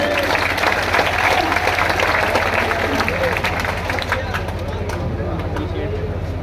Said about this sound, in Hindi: एक बार दोनों हाथ खड़ा करके तालियां बजाइए